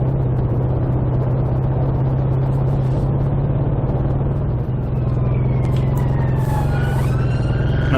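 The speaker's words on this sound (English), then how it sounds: "Incident response vehicle and an ambulance, and a few seconds later another ambulance." Ambulance and incident response vehicle sirens on a UK road in slow stop-start traffic, a loud wailing siren rising over a heavy engine rumble inside a car with a grabbing clutch, sweeping pitch growing clearer toward the end.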